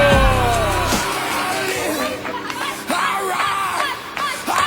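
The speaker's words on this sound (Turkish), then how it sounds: "alkışlar geliyor alkışlar geliyor" A crowd at a university department match cheers, yells and whoops loudly, with excited shouting voices rising and falling around the field.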